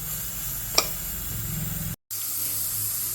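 A pressure cooker of chicken biryani on the stove gives off a steady, faint hissing of escaping steam with one brief click, no whistle yet.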